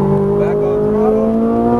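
Ferrari 458 Italia V8 engine pulling hard on a race track, a loud close steady howl with rising pitch as the car accelerates, a voice briefly heard over it.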